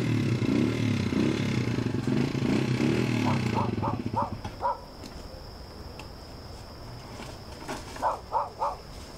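A nearby motorcycle engine idles with a loud, low, steady rumble for about four seconds, then cuts out. Short vocal bursts follow in the quiet that remains.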